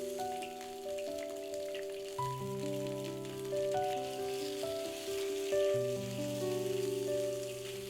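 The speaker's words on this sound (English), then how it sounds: "When the wok starts to smoke, add the crab pieces" Crab pieces crackle and sizzle steadily in a smoking-hot wok for Singaporean black pepper chili crab, a close, continuous frying hiss running under fairly loud background music.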